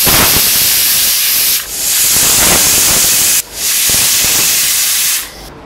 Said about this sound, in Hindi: 4-5 सीटी मारेंगे बस, हो जाएगा मेरा मटन बन जाएगा।